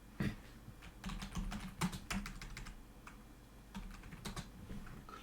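Keys clatter on a computer keyboard as someone types code in short, uneven bursts of crisp clicks, close up and fairly quiet, with brief pauses between flurries and no speech.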